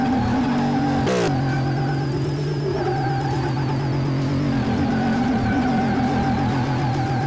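A modified Beck Kustoms F132 with 10,000 horsepower spins out in Car Mechanic Simulator 2018, its engine holding a loud steady drone with a sharp sweep near the start, and tire and engine noise keep going throughout.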